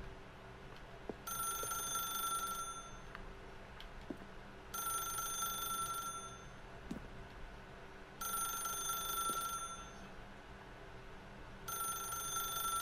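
A telephone rings in The Stanley Parable, four bursts of bright electronic trilling about two seconds each, separated by short pauses, over a low ambient hum with no talk.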